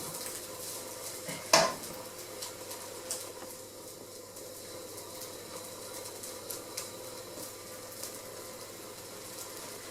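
Fried rice being stirred in a pan, with one sharp metallic clink of a utensil against the pan near the start and then a low, continuous background of scraping and faint sizzling.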